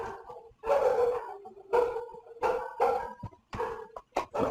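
Dogs barking and howling in repeated bursts of several seconds each, fairly close and loud, with short quiet gaps between calls.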